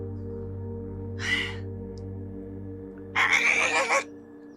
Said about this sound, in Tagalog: Isang ibon lang pala.